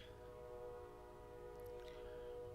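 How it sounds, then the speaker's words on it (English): A train horn or whistle, part of a game or show's soundtrack, sounds as steady tonal lines over a low rumble that holds for a couple of seconds, with a brief higher screech near the end. "Rude train."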